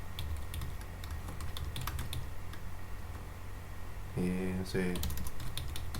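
Quick irregular clicks of computer keyboard typing, close and soft, under a person speaking Spanish, with a short stretch of talk near the end.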